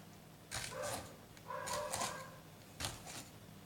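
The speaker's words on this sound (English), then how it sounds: "Neighbor's dog's barking." A dog barks in three short bursts from a moderate distance, with quiet gaps between them.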